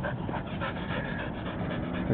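A fast ball-catching dog pants hard and steadily at close range during a game of fetch in Stockton, California, its quick rhythmic breaths continuing without a break.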